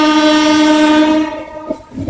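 A train horn blares loud and steady on the platform at Yesvantpur junction, where WDP diesel locomotives haul rakes in. The horn holds for about a second, then fades into faint rail clatter and station noise.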